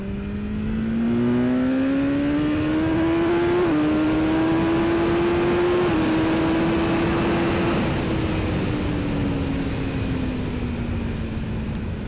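A BMW S1000R motorcycle accelerating hard on a wet road, its engine pitch climbing steadily through a few gear changes as it gathers speed, loud and continuous with no talking.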